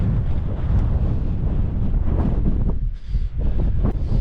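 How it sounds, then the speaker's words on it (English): Strong, continuous wind buffets the microphone during a hill walk in the Peak District, a loud rumbling roar with gusty surges throughout and no speech. "the wind is still pretty bad"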